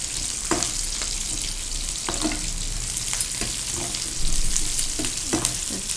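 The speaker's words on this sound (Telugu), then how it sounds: "ఇప్పుడు ఉల్లిపాయలు ఇది బ్రౌన్ వచ్చేంత వరకు వేయించిన తర్వాత" Onions sizzle steadily in hot oil in a pan for a mushroom and ridge gourd curry, with mustard seeds and curry leaves, the constant frying hiss broken by occasional scrapes and stirs of a spoon.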